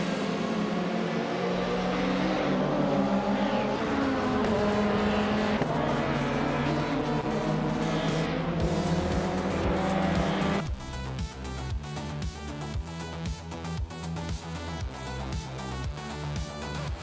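Race car engines roar in a racing video game as cars speed past, with dense overlapping revving and whining tones. Midway through, the sound shifts to a more tonal, music-like texture.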